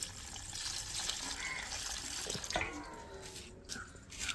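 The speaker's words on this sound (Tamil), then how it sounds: "இப்போது செகண்ட் டைம் கழுவி வச்சு இப்போ தேர்ட் டைம் கழுவிட்டுருக்கேன்" Coriander seeds being rinsed in a basin of water for a third wash to clear out soil and dust, giving steady close sloshing and splashing with small drips, with no voices.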